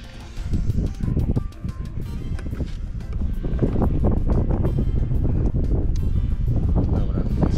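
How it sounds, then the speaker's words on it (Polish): Gusty outdoor wind buffets the microphone during an oil change on a Kymco Agility City 125 scooter, in loud, uneven rumbling bursts that swell toward the end, with someone talking through it. "Się wiatr wieje."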